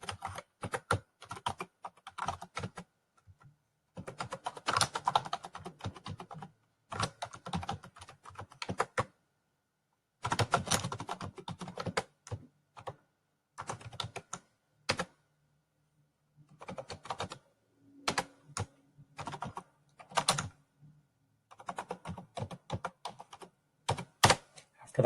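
Bursts of clicking keystrokes on a computer keyboard, close and fairly quiet, in irregular runs separated by silent pauses.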